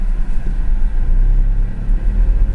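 A Tata Tiago facelift petrol automatic with an AMT gearbox pulls uphill, a low, steady engine rumble and road noise heard from inside the cabin, without talk.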